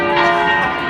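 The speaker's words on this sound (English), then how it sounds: "This bell, I live in this piazza over here, and every day this bell goes off like randomly" A church bell rings in an Italian piazza, a loud, steady metallic tone with a sustained shimmering hum and no gap or new stroke. No one speaks.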